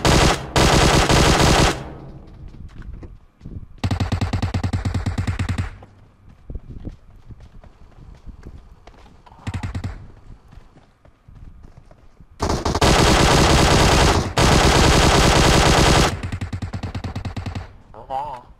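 PUBG Mobile gunfire: loud, rapid automatic bursts of several seconds each, separated by quieter gaps with footsteps and game noise, while players talk over it.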